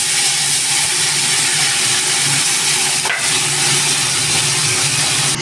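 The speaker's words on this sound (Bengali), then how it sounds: "এবার বেলে মাছগুলো আমি ভেজে নেব" Bele fish frying in hot oil in a wok, a loud continuous hiss and sizzle that stays close and even throughout, with one brief sharper burst midway.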